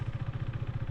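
A motorcycle in first gear labouring uphill, its engine chugging with a low, rapid, even pulse close by, heard alone for a brief moment.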